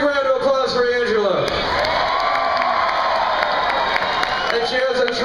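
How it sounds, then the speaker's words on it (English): A crowd claps and cheers loudly, with whoops and shouts rising over sustained applause throughout. "Big round of applause for Angela."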